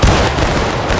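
A musket volley in a video game skirmish, one loud rolling blast of many shots going off together, filling the short moment with a booming, crackling roar.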